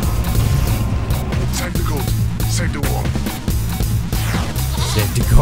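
A goat bleats in a video game, its cries rising over a loud, busy mix of game sound and background noise while people talk excitedly.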